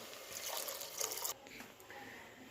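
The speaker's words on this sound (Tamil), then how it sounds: "இப்போ இதுக்கு தேவையான அளவு தண்ணி ஊற்றிக்கலாம்." Water is poured into a soya bean curry while it cooks, a short, soft trickle that lasts about a second before it stops, with faint kitchen noise after.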